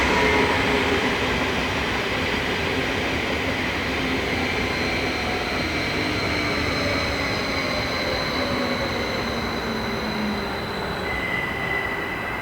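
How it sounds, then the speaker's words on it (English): A six-car Stadler regional train runs on the main line near Zurich, a loud, steady rumble of wheels and motors with high squealing tones from the rails, sustained for the whole stretch. "These 6-car units were built from 2010 onwards by Stadler for use on regional trains around Zurich."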